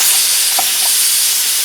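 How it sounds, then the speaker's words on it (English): A home pressure canner loaded with jars of maple glazed carrots vents a steady, continuous hiss of steam, loud and unbroken throughout with a faint clink midway. "our canner's been venting a steady stream of steam for 10 minutes"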